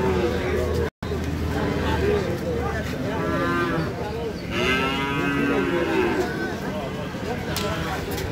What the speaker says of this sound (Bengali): এগুলো সব গরু